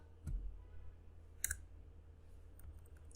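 A computer keyboard gives two faint, short clicks about a second apart, keystrokes for copy and paste shortcuts while C code is edited, with low background hum and no talk.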